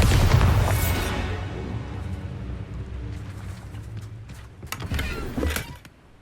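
A Bombarda blast spell detonates in Hogwarts Legacy, a heavy booming explosion that rumbles loudly at first and decays slowly, followed by scattered debris clatter and a second smaller thump.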